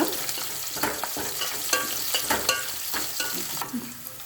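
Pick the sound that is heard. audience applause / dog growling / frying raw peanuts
frying raw peanuts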